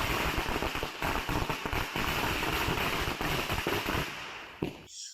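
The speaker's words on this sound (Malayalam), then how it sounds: "CPM പ്രവർത്തകർ പടക്കം പൊട്ടിച്ചു." Firecrackers set off by political party workers during a street demonstration in Kerala, a dense, continuous rapid string of loud crackling bursts that ends abruptly after about five seconds.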